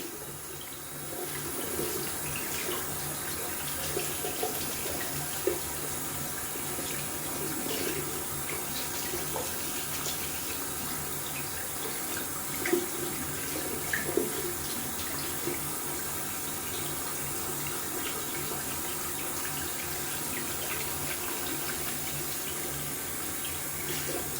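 Tap water runs steadily as shaving lather from a Yaqi Musketeer soap is rinsed out at a sink after a wet shave with an open-comb safety razor, a continuous near splashing with a few brief louder spatters and no talk.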